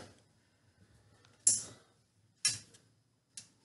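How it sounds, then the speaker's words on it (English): Small screws are driven into a ceiling fan during installation, producing three sharp, quiet clicks spaced about a second apart against near silence. "Just screw them in with the other"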